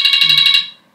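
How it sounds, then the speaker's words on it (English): An alarm beeps in a rapid pulsing run of about seven short, bright electronic tones, loud and close, then stops and fades into quiet. "That's my alarm."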